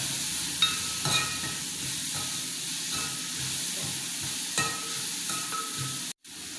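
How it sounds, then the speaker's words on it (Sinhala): After chili goes in, a dish is stirred in a pan under a steady hissing sizzle. Spoon scrapes and taps land every second or so, close and fairly loud, with no talking. "ඊට කැලේ මිරිස් දානවා. දාලා කලවම් කළා."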